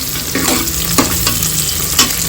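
Onion and tomato sauté together in a hot pan with a steady oily sizzle, broken by a few sharp scrapes and clatters as a spoon stirs them, close and fairly loud with no talking.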